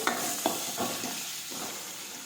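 Chopped ginger, green chili and chili powder hit hot oil with curry leaves in a pan, a soft steady sizzle with a few quick stirring scrapes at the start, close and fairly quiet with no voices.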